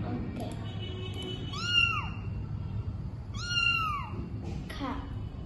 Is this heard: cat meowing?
yes